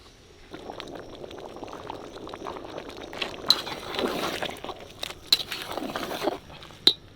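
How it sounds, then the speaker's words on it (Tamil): Rice simmering in a pot of water for mutton biryani bubbles softly and unevenly close by, with a few sharp clinks of utensils against the pot punctuating the low boil. "அரிசி நல்லா அப்படியே வெந்து வருது"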